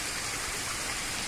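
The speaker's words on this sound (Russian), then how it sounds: "Весной тут поток вообще охренеть какой" A mountain stream on the Taraktash trail up Ai-Petri rushes steadily, a dense, unbroken roar of flowing water heard close and alone.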